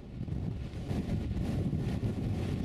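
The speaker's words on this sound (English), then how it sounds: "That is some strong wind, isn't it?" Strong wind batters a small backpacking tent, a Naturehike Cloud Up 2 or MSR Elixir 1, at an exposed wild camp, gusting and rumbling in uneven surges at a fairly low level, with no voices.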